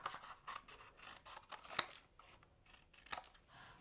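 Scissors cutting the corners of folded paper for a pop-up shape: a series of quiet, crisp snips and paper rustles, close and soft, with one sharper snip midway.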